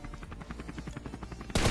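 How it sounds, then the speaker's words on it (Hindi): Steady rhythmic rotor thumping of a helicopter in the battle royale game Scarfall 2.0, moderately loud and continuous, ending in a sudden loud burst of gunfire. "सामने से मेरे को ना भाई एक हेलीकॉप्टर का साउंड आता है"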